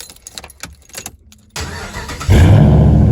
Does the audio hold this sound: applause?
no